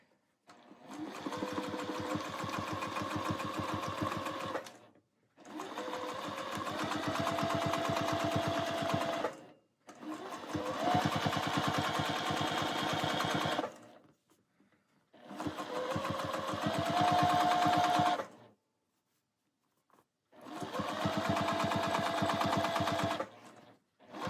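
A sewing machine doing free-motion quilting of holly leaves from a template, running in five bursts of rapid, steady stitching a few seconds long, separated by short silent pauses, close and clear with no talking.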